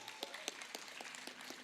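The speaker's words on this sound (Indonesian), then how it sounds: "Tepuk tangan untuk kita semuanya." Applause from an audience at a gathering of Islamic boarding school media groups in Lampung, a steady patter of claps with a few sharper hits, moderately distant and fairly faint.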